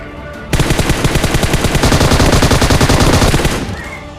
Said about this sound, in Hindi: उसके बाद मैं वहाँ पे इसको फ्री फायर दे करके इसको मार देता हूँ